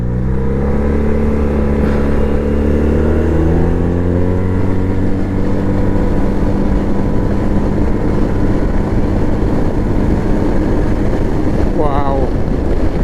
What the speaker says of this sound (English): It doesn't hang about when you twist that throttle.